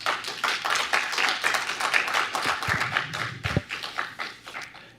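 An audience at a Truckee town council meeting claps in a brief, moderately loud burst of applause, the claps irregular and overlapping, then tapering off.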